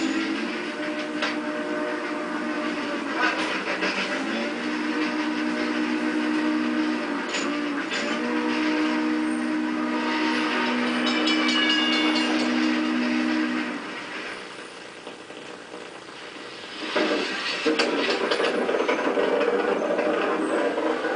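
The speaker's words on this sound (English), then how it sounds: "Hop aboard and ride the rails on what was once America's freedom train." Steam locomotive 4449, the Daylight, rumbles along with steady mechanical clatter and a sustained whistle-like tone, loud and continuous, briefly quieting before picking back up.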